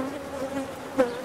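Honey bees drone around an open hive being worked by a beekeeper, a close, continuous buzz with wavering pitch and one louder bee passing near the end.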